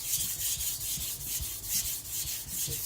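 A Tojiro white steel shirogami nakiri scrapes back and forth on a whetstone during thinning, a rhythmic rasping rub of about three strokes per second, close and steady with no talk.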